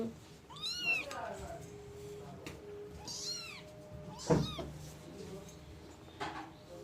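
Cats meow several times at close range, the cries coming in short separate bursts over a low background hum.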